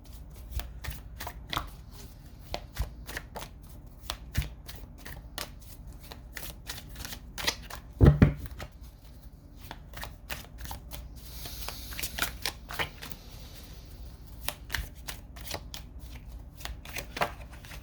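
Tarot cards being shuffled during a daily Libra reading, a steady run of soft riffling flicks and slaps close by, with one sharper knock partway through and no talking.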